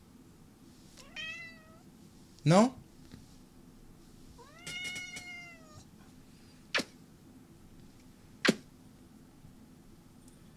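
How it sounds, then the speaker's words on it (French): A cat meows several times indoors, with drawn-out plaintive calls and a couple of short sharp yowls, spaced across a quiet room with a faint background hum and a brief spoken word. "C'est un chat malheureux, bah ouais"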